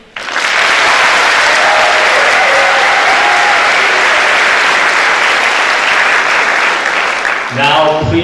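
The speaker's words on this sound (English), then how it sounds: "please give another round of applause" An audience claps loudly and steadily throughout at a school graduation ceremony. A few voices can be heard under the clapping, and the applause fades near the end as a voice begins to speak.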